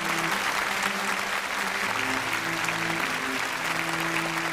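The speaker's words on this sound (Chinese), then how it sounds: "我们也要把最热烈的掌声送给我们其他几位选手" Sustained audience applause fills a TV studio stage at a Chinese folk song contest, steady and even from start to finish, with soft tonal music running underneath.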